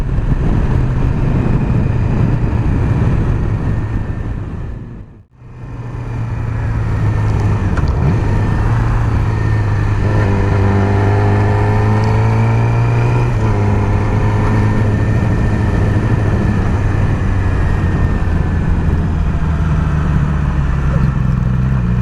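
Loud motorcycle exhaust from another rider's bike, louder than a Yamaha R6, droning steadily on a Singapore road under dark skies, with a brief dip mid-clip and engine tones shifting as it rides alongside.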